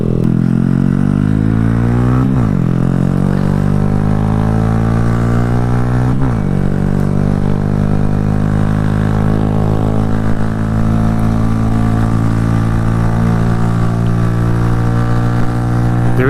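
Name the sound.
2018 Honda Grom motorcycle with aftermarket exhaust accelerating on highway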